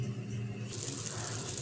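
Water pours into a pot of lentils being cooked for khichri, a steady splashing rush that swells into a fuller, brighter gush partway through, close and fairly quiet with no talk.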